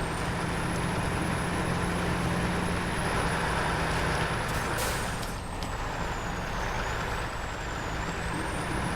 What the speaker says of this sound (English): watch the takeoff for this truck.